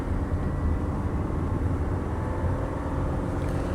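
A 2005 BMW 545i with a damaged transmission revs while going nowhere, giving a continuous low engine rumble heard from inside the car with no talking.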